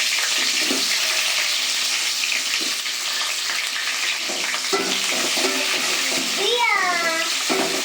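Onions and curry leaves hit hot oil and fry with a bright, crackling sizzle, with stirring scrapes and clatter, and a voice speaking briefly over the frying.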